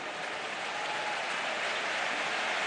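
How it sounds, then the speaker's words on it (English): Steady, dense applause from a large football stadium crowd at a Barcelona versus Atlético Madrid match, a continuous distant wash of clapping with no breaks. "Just waiting for the clapping to start."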